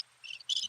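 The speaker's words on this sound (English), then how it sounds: "crickets." Crickets chirp in two short bursts, shrill and close, against near silence.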